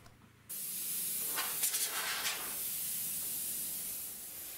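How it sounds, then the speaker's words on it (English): An airbrush sprays paint in a steady, close hiss that starts abruptly and continues for several seconds, with slight fluctuations as the spray builds up, and no talking. "So just further away with the airbrush and just gradually building that up."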